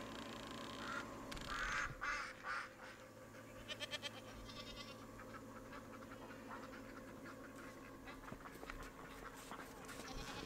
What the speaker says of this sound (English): I got goats in the house.